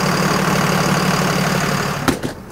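A Cummins diesel engine idles in a 2000 Fleetwood Bounder 36S diesel pusher motorhome, a steady low rumble heard close up and unbroken for most of the stretch, then interrupted near the end by a couple of sharp knocks.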